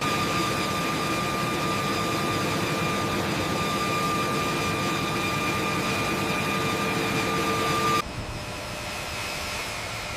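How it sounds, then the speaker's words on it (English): The eight engines of a B-52 bomber roar continuously as they spool up for departure on an air base tarmac, a loud steady jet rumble with a high whine that cuts off abruptly near the end. "Look at the sheer power as those 8 engines spool up for departure"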